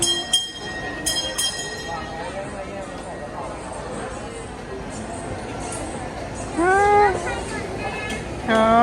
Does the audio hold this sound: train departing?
yes